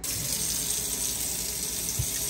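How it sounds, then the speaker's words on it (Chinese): Tap water runs into a sink in a steady, close, hissing stream while a child washes hands at home, with a faint bump from the basin near the end. "洗手，来手搓起来，搓"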